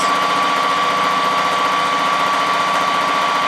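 A sewing machine stitches fabric strips with right sides together, a steady, loud mechanical whir with a fast even chatter and a constant high whine running without a break.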